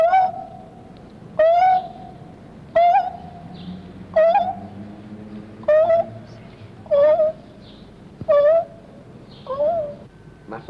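A person imitates a dove's cooing song in a series of about eight short, breathy hooting calls evenly spaced a second or so apart, close and clear against a quiet room.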